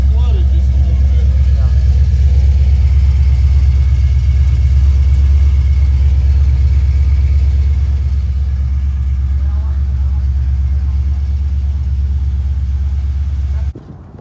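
A 1974 Camaro engine, slightly flooded, runs steadily with a deep rumbling idle close by, continuous and loud for the whole stretch before cutting off abruptly at the end.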